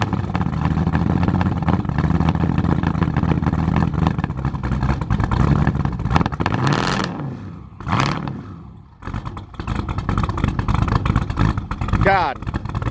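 A rough-running LS-swapped twin-turbo Fox Body engine rumbles and revs steadily and loudly up close, briefly dipping and surging around the middle, with people talking over it.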